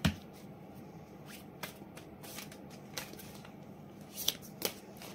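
Tarot cards being shuffled by hand, a soft steady riffle and slide of cards with occasional sharper flicks and taps, close and quiet with no speech.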